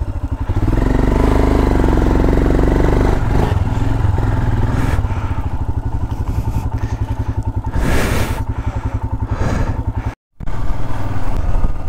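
A motorcycle engine runs loud and close while riding up to Tawang Monastery, a steady mid-pitched throb with rattling clatter and a few revs, then a brief cutout before the engine note returns.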